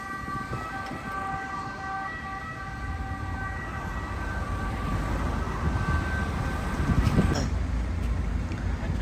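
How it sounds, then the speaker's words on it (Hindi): Ambulance and police sirens sound on a street in Italy, holding steady tones over rumbling traffic and growing louder toward the end. "यहाँ की एम्बुलेंस और पुलिस की गाड़ियाँ बड़ा ही शोर करती हैं।"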